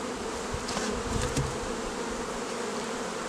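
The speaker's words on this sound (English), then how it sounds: "This cluster of bees right here, I'm just going to tap this," Honey bees buzz inside an overwintered hive box in a dense, continuous drone, with a few soft knocks and shuffles mixed in, heard close up and without speech.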